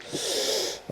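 A long airy exhale, like a dog's wide yawn, breathy and close, ending with a brief soft squeak.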